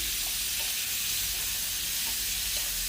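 Pumpkin and potatoes fry in a pan with salt added, a loud close hissing sizzle with soft scrapes of stirring.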